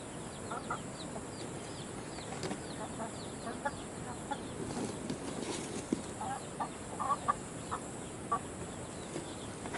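Rhode Island mahogany chickens cluck in soft, scattered calls over a low farmyard hum in Pilar, Sorsogon, with brief higher clucks rising now and then, moderately close and with no talk.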